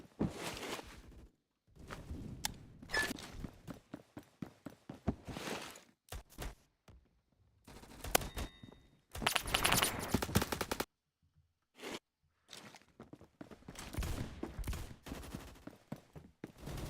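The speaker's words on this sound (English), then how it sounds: "That's an MG." Machine gun bursts in a shooter video game, with several loud rapid-fire volleys broken by short gaps, plus scattered single shots and footsteps, close and harsh, no talk.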